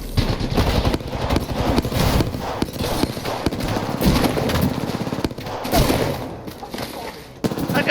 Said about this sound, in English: That gun's a burst?